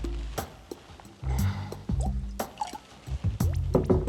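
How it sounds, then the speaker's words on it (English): Water pours into a glass in several separate bursts, with splashes, drips and gurgles between short quiet gaps. The sound is close and fairly clear. "I'd like to pour you a glass of water"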